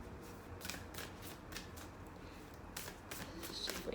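Oracle cards being shuffled by hand, quiet papery riffles and flicks arriving in short bursts against a soft room background.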